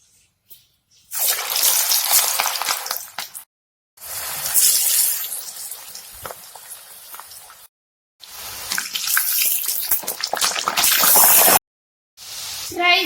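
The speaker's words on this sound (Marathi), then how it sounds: "यात आपण फ्राईज तळून घेऊ" Loud sizzling of food frying in hot oil, crackling bursts that swell and cut off a few times with short silences between.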